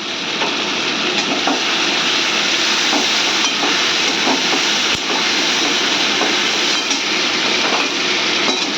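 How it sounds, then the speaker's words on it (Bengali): Loud, steady sizzle of pointed gourds frying in hand-ground green chili, ginger and cumin paste, a continuous close hiss. "হাতে বাটা কাঁচা লঙ্কা, আদা আর জিরে কষানো হচ্ছে, ওর মধ্যে পটলগুলো দিয়ে দিলাম।"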